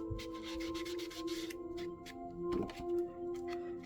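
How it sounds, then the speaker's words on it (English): Ink pad or blending tool rubbing along the trimmed paper edges of a Victorian-style junk journal, giving soft repeated scuffing strokes, close and quiet, with a faint steady hum underneath. "ink those edges that got their ink chopped off"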